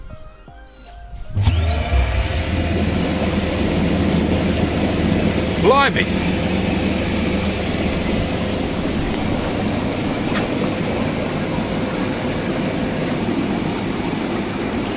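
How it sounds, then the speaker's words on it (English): The air bubble blower of a Bestway Lay-Z-Spa Saint Tropez hot tub kicks in and runs as a loud, steady whooshing roar that continues throughout, with a brief exclamation from a voice as it starts. "we'll unlock it and we'll see how efficient the bubbles are"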